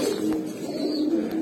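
Racing pigeons in a loft cooing, soft repeated low coos over a steady background hum, near and fairly faint.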